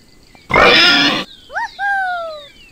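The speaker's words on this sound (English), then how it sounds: "Pig." A pig gives one loud, broad grunting burst lasting under a second, followed by two short rising whistles and two longer gliding tones from a cartoon-like sound effect.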